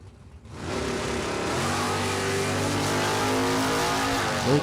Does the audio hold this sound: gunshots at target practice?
no